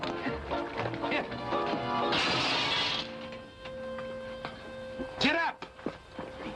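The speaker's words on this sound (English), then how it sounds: "You busted Lily's looking glass." A looking glass mirror smashed during a fight in the 1940 western film Santa Fe Trail: a single noisy crash of about a second in the middle, among scuffling, thuds and other movie sounds.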